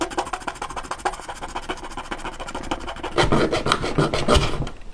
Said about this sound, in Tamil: இந்த மாதிரி ஹேக்ஸா பிளேடை வச்சு மார்க் பண்ணப்பட்ட இந்த பகுதியை மட்டும் தனியாக கட் பண்ணிடுங்க